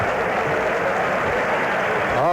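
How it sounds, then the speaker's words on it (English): A baseball crowd at Yankee Stadium during a 1985 White Sox–Yankees game cheers and applauds as Tom Seaver goes for his 300th win, a loud, continuous roar that swells near the end, with a voice talking over it. "we got the crowd responding"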